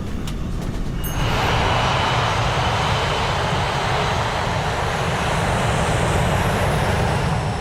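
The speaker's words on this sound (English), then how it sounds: "Flight 243 is ready for takeoff" Aloha Airlines Flight 243 airliner taking off: after a quieter moment, engines swell into a loud, steady, broad roar that holds evenly throughout, with no voices.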